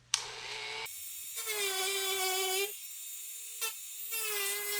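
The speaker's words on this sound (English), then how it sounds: "we're gonna go ahead and take this Dremel right here and cut out the bumper where we have the tape" A Dremel rotary tool whines at high speed while cutting into the plastic bumper of a 2018 Subaru STI, its pitch dipping and rising in several close, steady passes with brief pauses.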